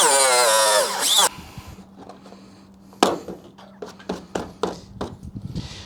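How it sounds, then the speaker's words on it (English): Power tool cutting bed stake holes in a Toyota Tundra truck bed: a loud, high whining burst up close, then a low hum with sharp knocks and taps. "now we can start cutting the holes for the bed stakes"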